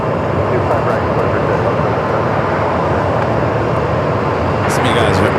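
A 23-year-old Boeing 757 jet at an airport, a broad, steady roar of engines holding loud throughout, with a brief faint high whine near the end.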